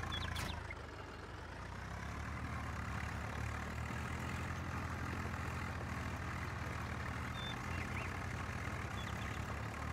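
A Swaraj 744FE tractor in Farming Simulator 19 pulls under load, its engine a steady low throbbing rumble that stays constant and moderately loud throughout with no voices.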